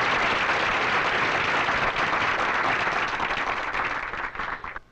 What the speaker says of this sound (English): I know you've just finished applauding, but how about once again for our two fine performers here?